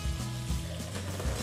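Butter and flour cooking together as a roux in a pan over low heat for cream stew give a steady, soft, close sizzle over a low rumbling hum, with no talking.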